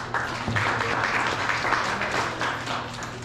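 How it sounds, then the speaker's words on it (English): An audience claps for a speaker at a morning community meeting: a steady, moderately loud burst of many hands that carries on evenly throughout, with no talking on top. "I know the clapping was for Jillian, not for me."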